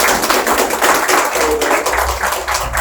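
Audience applause at a public felicitation for a newly elected Rajya Sabha member, a loud, dense burst of clapping from a crowd that continues steadily throughout, with some voices mixed in.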